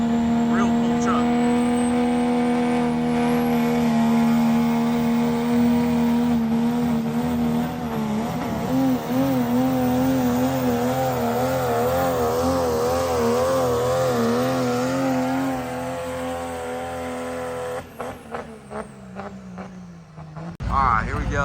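An outlaw-class pulling truck with a 2.6 charger on a 3.0 engine roars at a county fairgrounds truck pull, a sustained loud, droning rev that rises and wavers before dropping off into sputtering bursts, with a voice talking over it.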